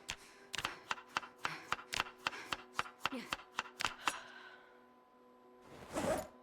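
Repeated wet chops of a hunting knife butchering a carcass in Project Zomboid, about a dozen quick, evenly spaced strikes, close and clear, followed by a soft rustling swipe.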